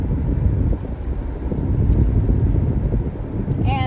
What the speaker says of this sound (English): It is windy out here. Really windy.